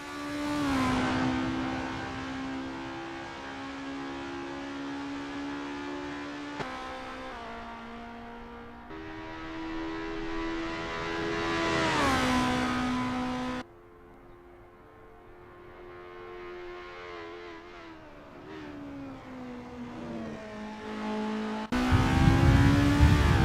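Formula race cars at Zandvoort in a racing video game drone continuously, engines rising and falling in pitch through gear changes and revs, one car close and loud, others fainter, with no talk.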